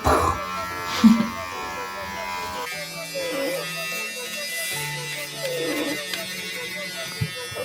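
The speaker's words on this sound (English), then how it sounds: "I'll like kind of gently glide over that just to shave a little bit of it" Electric hair clippers glide over hair during a home haircut, a soft steady buzz whose pitch shifts as the blades move, running continuously under a person's voice.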